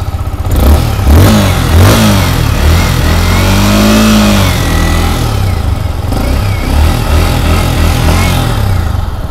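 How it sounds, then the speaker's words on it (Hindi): Yamaha MT-15 2024 motorcycle, a BS7 E20 model, revving hard through its exhaust: a loud, close engine note that climbs and falls in repeated throttle blips, steady and alone with no talking. "तो सबसे पहले मैं इस गाड़ी का आपको एग्जॉस्ट नोट ही"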